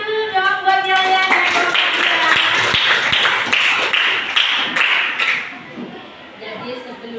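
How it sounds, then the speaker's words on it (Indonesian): A school class claps during a civics lesson in a burst of dense hand-clapping lasting about four seconds, with a few sharper taps. Voices are heard before and after the clapping. "Tepuk tangan dulu dong buat kalian."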